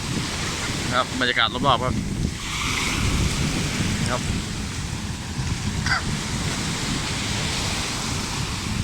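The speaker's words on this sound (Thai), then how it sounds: "นี่ครับคลื่นแรงครับลมทะเลสุดยอด" Strong sea waves and gusting sea wind on a beach near Chonburi, Thailand, a loud, continuous rushing roar with wind buffeting the microphone, while someone speaks briefly near the start and a few bird calls cut through.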